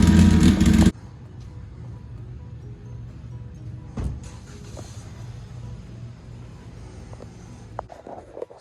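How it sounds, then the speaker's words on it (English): A Mitsubishi Mirage with all-wheel drive and a 4G63 engine idles steadily with a low, even hum, after a loud broadband burst at the start and a brief louder moment partway through. "This is a Mitsubishi Mirage. So it's all-wheel drive. It has the like an Eclipse motor. It's a 4G63."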